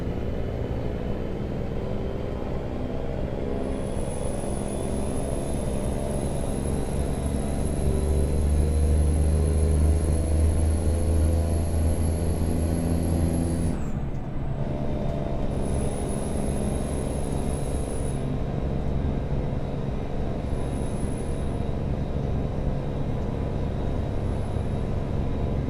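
Truck engine brake in American Truck Simulator, a deep rumbling drone with a high whine that cuts out sharply, then a quieter rolling rumble with short whine bursts, no talk.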